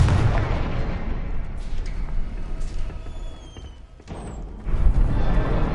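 A Confringo fire spell blasting in the Hogwarts Legacy video game, booming explosive bursts over a dense rumbling game soundscape, with a sharp impact near the middle followed by a heavier surge.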